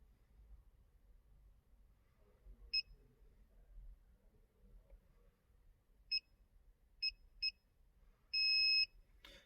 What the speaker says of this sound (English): You get a funny little beep.